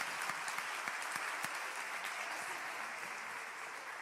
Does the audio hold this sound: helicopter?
no